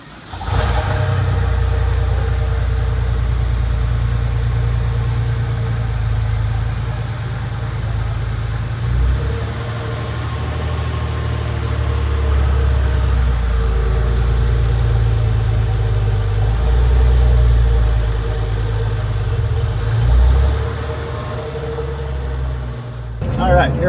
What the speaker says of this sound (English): Do a little drive out of our street, let the car warm up